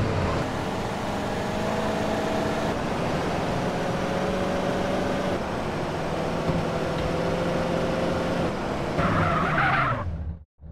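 Car engine droning steadily in GTA San Andreas with tires skidding and squealing, loud and continuous for about ten seconds before cutting out abruptly.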